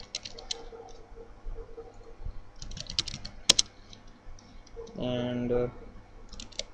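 Cisco router configuration commands are typed on a computer keyboard in short bursts of clicks under intermittent speech, followed by a sharp tap and a denser run of keystrokes.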